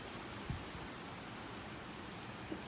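Rain pours down in a steady, soft hiss of drops on surfaces, even and unbroken, with a couple of faint low thumps and no talking.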